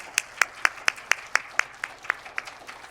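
A small gathering at the Korean Women Journalists Association's 60th anniversary ceremony claps in welcome for presidential candidate Lee Jae-myung, about a dozen fairly faint, regular claps heard at a slight distance over a low background hum.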